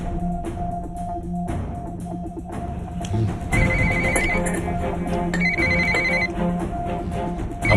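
A phone ringtone plays in repeated melodic bursts, fairly close and steady, with no talking over it.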